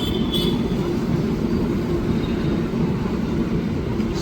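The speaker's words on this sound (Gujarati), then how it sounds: "એકચ્યુઅલી એનો ટાઈમે આ છે ઓટોમોબાઈલ કેરિયરની કંઈક ટ્રેન છે" An automobile carrier freight train rolls past near Surendranagar gate, giving a loud, continuous low rumble of wagons on the rails that holds steady throughout.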